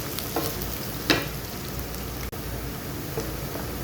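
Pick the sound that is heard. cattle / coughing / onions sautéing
onions sautéing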